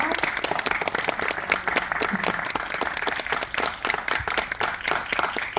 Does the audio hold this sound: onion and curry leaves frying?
no